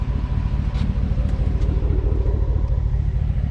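A Ford F-150 pickup on 35-inch tires and Raptor wheels on the road, giving a loud, steady low engine and road rumble heard from inside the cab, with a few faint ticks above it.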